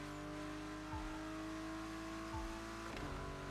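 A car in The Crew Motorfest accelerates hard, its engine droning loudly and steadily with rising pitch that drops at two quick gear shifts, close and continuous with no talking.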